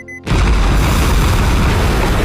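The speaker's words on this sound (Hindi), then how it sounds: "उन्होंने तुरंत कंटेनरों पर बम लगाया और रिमोट दबाते ही जोरदार धमाका हो गया।" Bombed containers blow up in the 2024 Anaconda movie. A brief quiet gives way to a sudden, very loud blast that rolls on as a sustained, heavy roar.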